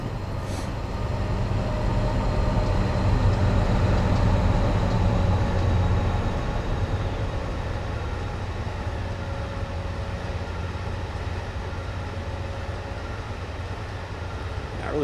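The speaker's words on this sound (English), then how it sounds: "Let's go ahead and watch the entire train pass on this one" A freight train passes on Cajon Pass in Train Simulator 2015, with a continuous loud low rumble and wheel noise rolling steadily for the whole stretch and easing slightly toward the end.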